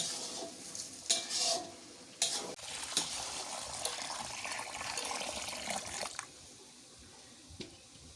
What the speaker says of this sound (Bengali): মা হচ্ছে এই পাশে মাংস কষাইতেছে